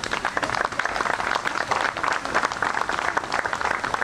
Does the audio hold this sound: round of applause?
yes